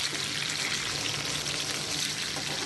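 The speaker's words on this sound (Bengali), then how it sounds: "এভাবে বড় মাছ ভাজি করলে কিন্তু দারুণ হয় খেতে" A big tilapia fish fries in hot oil with a steady, dense crackle and sizzle, close and fairly loud, unbroken for the whole stretch with no voices.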